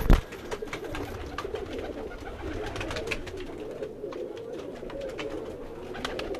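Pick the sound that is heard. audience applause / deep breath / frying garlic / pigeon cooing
pigeon cooing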